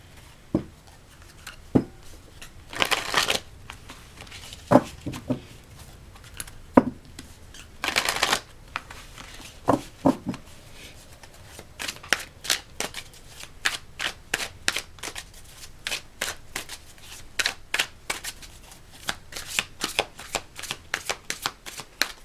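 A deck of tarot cards is shuffled and cut by hand, with sharp riffles and flicks that come in scattered bursts at first and then turn into a quick, steady patter of close card snaps with no talking.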